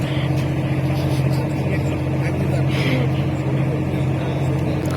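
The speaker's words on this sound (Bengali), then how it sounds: "ওই তো আর একটা লঞ্চ আসছে।" Passenger launch boat approaching on a river, its engine a steady, droning low hum that holds constant throughout, with voices faintly present alongside.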